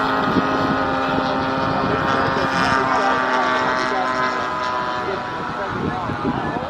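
A Sig Rascal model airplane races past at the Warbirds Over Delaware 2025 event, its propeller giving a steady, fairly loud drone that fades only slightly, with people talking over it.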